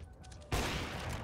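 A sharp rifle shot in the game Counter-Strike: Global Offensive, a loud sudden crack about halfway through, with a dense tail ringing out afterward over a quiet room-tone lead-in.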